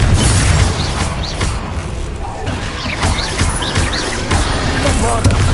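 Repeated blasts and crashes from a Confringo spell in Hogwarts Legacy, loud booms and debris clatter rolling continuously over several seconds of combat, with voices faintly mixed in.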